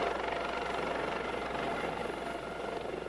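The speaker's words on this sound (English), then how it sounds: "Pam was flown by Maryland State Police helicopter to the neonatal intensive care unit" A Maryland State Police helicopter drones steadily overhead, its rotor throbbing in a fast, constant beat at a loud, even level.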